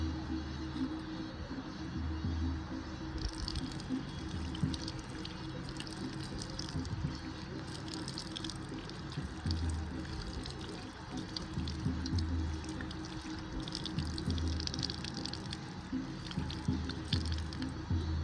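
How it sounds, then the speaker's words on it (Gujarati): Water poured for washing hands after a meal at a village tribal wedding in Santrampur splashes and drips steadily for the whole stretch, set against a loud, busy crowd. "હવે હાથ થવા જાઉં છું તો આવું સિસ્ટમ ગોઠવેલી છે"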